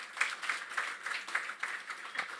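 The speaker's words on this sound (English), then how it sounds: "Can we have a round of applause for moderator?" An audience at a G20 interfaith forum panel in Pune claps for the moderator, a thin, moderately distant patter of many hands that holds steady for a couple of seconds.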